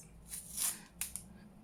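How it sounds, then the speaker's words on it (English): Paper is ripped by hand while working on an altered file folder for a junk journal, a few short crisp tears and rustles, quiet and close, with a brief sharp tear near the end. "Oh, I might have to rip another piece. Yeah, just rip another piece."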